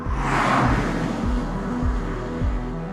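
An original Mazda MX-5, a light, small, simple sports car, drives close by with a steady engine note and several gear-change dips, loud and continuous with no talking.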